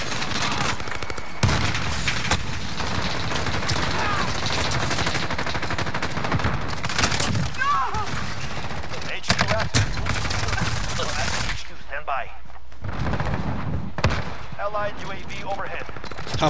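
Rapid gunfire from a short-barrelled gun in a video game, dense and loud with bursts of shots and brief pauses, mixed with talking.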